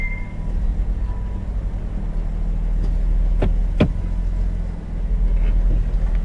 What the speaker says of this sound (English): Let's put it in gear.